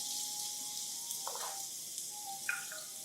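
Onions, shallots and garlic sizzling in hot canola oil in a pan, a steady broadband hiss throughout with a few brief clinks and stirring sounds, no voices.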